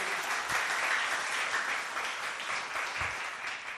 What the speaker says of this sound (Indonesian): Sebelumnya tepuk tangan buat One Vision Bapak Ibu.